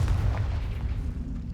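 The Confringo blasting spell in Hogwarts Legacy goes off as a deep, rumbling explosion, heaviest at the start and fading over about a second and a half.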